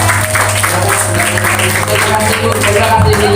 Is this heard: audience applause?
yes